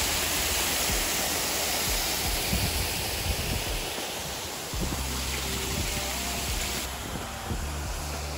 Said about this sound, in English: have your thoughts shrouded and blasted with the sound of this loud water